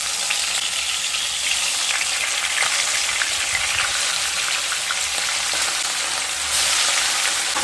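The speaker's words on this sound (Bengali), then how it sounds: "তেলটা গরম হয়ে গেলে ম্যারিনেট করা মাছগুলোকে ভেজে নেব।" Marinated katla fish fries in hot mustard oil in a pan, giving a loud, steady, close-up sizzle that crackles evenly throughout with no voices.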